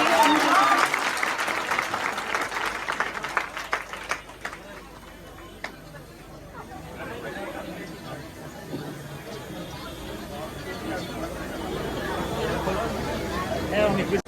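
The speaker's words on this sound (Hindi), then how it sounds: "एक बार जोरदार ताली होगी।" Audience at an award ceremony honouring newly selected Bihar Police recruits breaks into loud applause at first, which thins into scattered clapping under crowd chatter and a talking voice, then swells again near the end.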